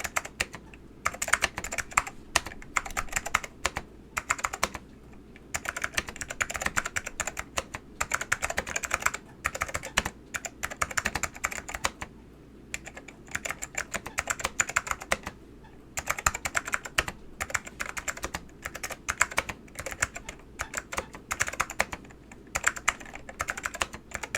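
Steady clacking of keys on an Apple Extended Keyboard M0115 mechanical keyboard with Alps SKCM White switches, close and crisp, in uneven bursts with short pauses, no voices.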